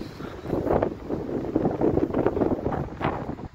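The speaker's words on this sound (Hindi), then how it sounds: "बहुत तेज हवाएं चल रही है इधर" Strong wind buffets the microphone outdoors in a village setting, a continuous loud rumbling roar with gusty surges throughout and no talking.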